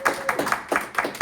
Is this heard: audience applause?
yes